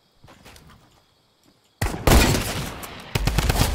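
Loud bursts of gunfire from the video game Fortnite erupt after a quiet stretch, continuing as a dense rattle with a renewed burst near the end.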